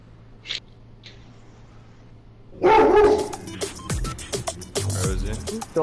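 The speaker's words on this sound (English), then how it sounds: "She's barking at people outside." A pet dog barks repeatedly at people outside an 18th-floor apartment, a burst of sharp, fairly close barks with whimpering yips, over a low room hum.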